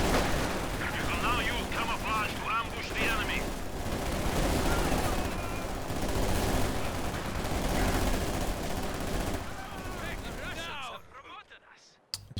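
Five PPSh submachine guns fire in a close-range video game battle against grenadiers, producing dense continuous rattling bursts and booms throughout, with chirpy effects early on, before the noise cuts out near the end.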